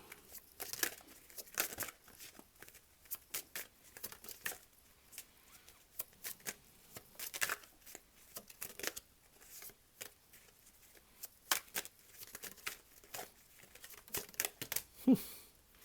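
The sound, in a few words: tarot cards being shuffled and drawn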